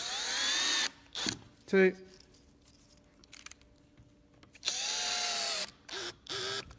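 A power drill drives screws into a skate ledge kit in several short whirring bursts, rising in pitch as each screw seats, with pauses between; someone speaks briefly in between.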